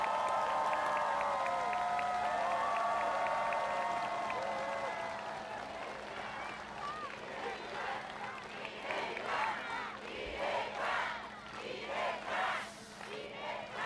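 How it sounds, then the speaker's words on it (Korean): Applause and crowd noise at a Democratic Party campaign rally in Sejong City build in the latter half, rising in uneven bursts after a stretch of amplified voice and tonal sound at the start. "여러분 박수 부탁드립니다"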